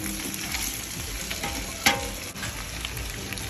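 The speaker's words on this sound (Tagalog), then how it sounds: "Prito-prituin lang ng konti" Onions sizzle and crackle steadily in a hot pan, close up, with a brief clink of a utensil midway and no talking.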